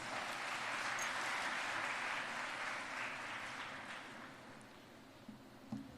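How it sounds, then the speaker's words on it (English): Audience applause at a university inauguration and orientation for first-year undergraduate classes, a broad, steady clatter of many hands filling the hall, gradually thinning toward the end. "with a huge round of applause"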